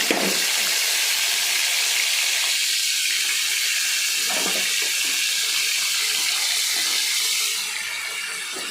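Chicken liver frying in hot oil gives a loud, steady hiss and sizzle that holds for several seconds, then eases slightly toward the end.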